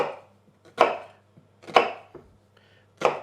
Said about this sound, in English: you cut the onion up to the root